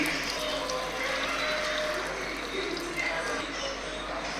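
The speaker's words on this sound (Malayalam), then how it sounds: "രണ്ട് കപ്പ് വെള്ളം ഒഴിക്കുന്നുണ്ട്" Two cups of boiled water poured into a pot of mushroom masala for a Tamil Nadu style mushroom biryani, a steady close rushing splash that lasts the whole stretch.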